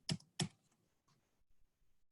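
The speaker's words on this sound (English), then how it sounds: "I'm gonna simulate it here with a keyboard, but we're gonna enter the employee's ID number as it would be scanned." Employee ID number keyed in on a computer keyboard: two sharp, close key strikes followed by a few faint, softer taps, with no one talking.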